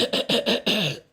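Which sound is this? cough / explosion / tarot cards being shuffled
cough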